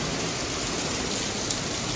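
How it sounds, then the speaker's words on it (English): Heavy rain pours steadily in a dense, even hiss of drops hitting surfaces nearby, with no voices. "It's raining real bad."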